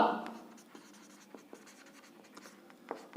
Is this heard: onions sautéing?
no